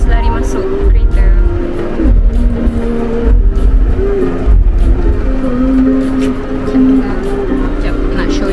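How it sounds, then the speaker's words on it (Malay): Inside a moving car, a loud steady engine drone and road rumble fill the cabin, with people talking over it. "Everyone, we just got in the car."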